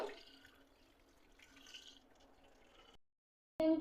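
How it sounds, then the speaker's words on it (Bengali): Parboiled rice being washed with cold water, a steady wet splashing and trickling that runs for about three seconds, stops briefly, then returns loud. "ভাতগুলোকে ঠান্ডা পানি দিয়ে ভালো করে ধুয়ে নেব"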